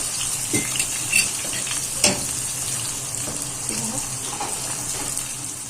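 Fish frying in hot oil gives a steady, close sizzle and bubble, with a few sharp pops and spatters breaking through now and then.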